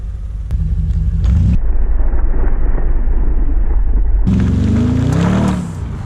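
An Audi RS6 engine with a Milltek exhaust rumbles steadily and loudly up close, a deep continuous drone with the tone shifting as revs rise toward the end, no talking.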